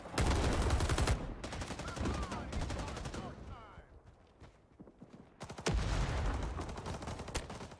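Rapid machine gun fire rattles in dense bursts during a Rising Storm 2 Vietnam battle, with a quieter pause in the middle before the loud automatic fire resumes. A voice talks faintly underneath.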